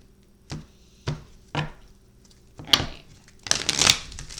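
An oracle card deck is shuffled in quick separate bursts of papery riffling, three short ones and then longer, louder shuffles close by.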